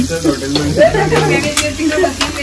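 Bombil (Bombay duck) fish fry in a hot pan with a close, continuous crackling sizzle, broken by stirring and shifting sounds, with faint voices in the background.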